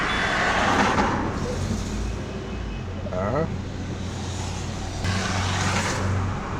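A Peugeot 307 with a misfire, its engine catching and settling into a steady, close, rumbling run, with faint voices in the background.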